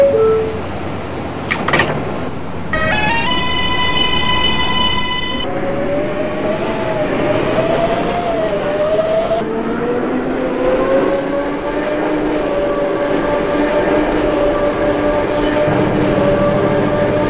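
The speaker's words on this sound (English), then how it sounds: "This is a Queensboro Plaza bound 7 train." An R188 subway train on the 7 line bound for Queensboro Plaza: a loud, close rumble with a door chime, then motors whining upward in pitch as it pulls away, with wheel squeal throughout.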